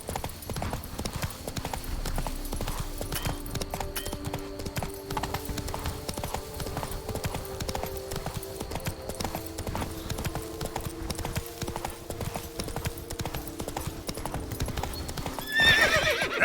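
Roach, a horse in the video game The Witcher 3, gallops with rapid, steady hoof clip-clop and repeated neighs over ambient game music, sustained for the whole stretch with a louder surge at the very end.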